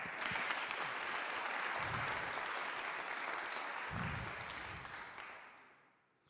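Audience applause for a singer on a French-language TV show, a dense continuous wash of clapping that holds steady, then fades out near the end.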